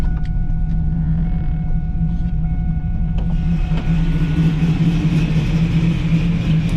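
A boosted, cammed fourth-generation Chevrolet Camaro idles close by with a heavy, steady rumble, its loping beat carried under a constant drone, with a few faint creaks and clicks.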